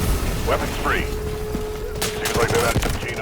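Gunfire in the Delta Force video game on a raid mission against AI bot enemies, with scattered shots and bursts, one sharp cluster near the end, over game ambience and a steady tone.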